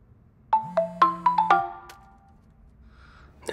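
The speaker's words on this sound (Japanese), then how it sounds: "ミニの携帯への電話" A mobile phone ringtone in a film sounds as a loud, close series of bright electronic tones in a quick melodic run. It stops after about a second, and a brief sound follows at the end.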